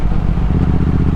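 A Triumph Speed Twin 1200 motorcycle's upgraded twin engine running while riding, a close, loud, steady low throb with a pulsing rumble throughout a short burst.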